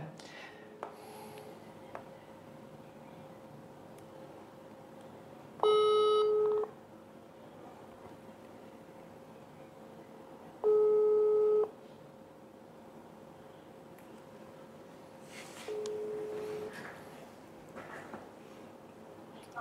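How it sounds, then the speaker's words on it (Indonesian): A telephone call is dialed on a regular phone, with a few distinct electronic tones or ring pulses separated by quiet gaps and faint background noise. "Oke, kita telepon dia ya."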